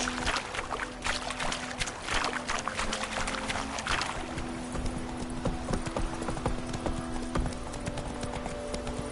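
Roach, Geralt's horse in The Witcher, trots with steady, rhythmic clip-clop hoofbeats at close range over a low ambient game drone, the pace continuing evenly throughout.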